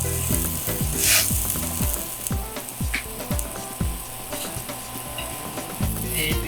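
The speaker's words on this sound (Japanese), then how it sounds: "初めに全体的に軽く焼き目をつけます。" Beef-wrapped checkered konjac rolls dusted in potato starch sear in a pan with a loud continuous sizzle and crackle, punctuated by occasional clicks of the utensil, close and steady throughout.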